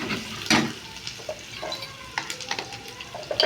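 Chopped onion with a pinch of salt sizzles in a hot pan for dal khichdi, a steady crackling fry broken by scraping stirs and light clinks of a utensil against the pan.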